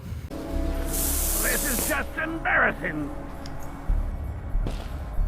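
An aerosol can sprays in one steady hiss lasting about a second, with voices talking and shouting around it and over the following moments.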